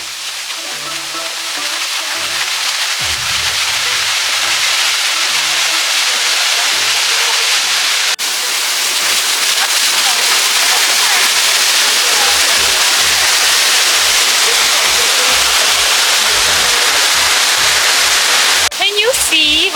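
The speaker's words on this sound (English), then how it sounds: "The big, beautiful waterfall right there is called 𝗥𝗲𝗱 Waterfalls." Red Waterfalls in Trinidad pours down steadily, a broad loud rushing roar of falling water that continues throughout, with voices speaking over it at times.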